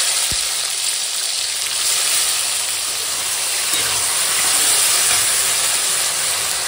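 Tomatoes going into hot oil with a bay leaf, frying in a loud, steady, close sizzle and hiss that fills the whole clip without a break.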